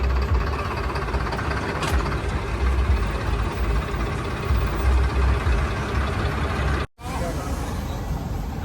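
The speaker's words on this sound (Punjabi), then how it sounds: "ਉਧਰਲੇ ਪਾਸੇ ਵੀ ਟਰੈਕਟਰ ਆ ਰਹੇ ਨੇ ਹਲੇ" Tractors rumble and idle during a farmers' tractor march at a rain-soaked grain market, a steady low engine drone holding close and loud, cut by one brief dropout near the end.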